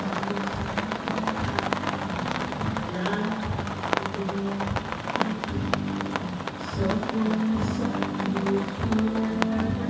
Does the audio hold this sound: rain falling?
yes